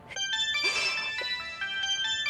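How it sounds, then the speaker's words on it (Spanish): A telephone rings in a domestic scene from a dubbed Spanish-language family drama, a repeated electronic ringtone of bright tonal bursts sounding clearly for about two seconds with no talk over it. "El teléfono."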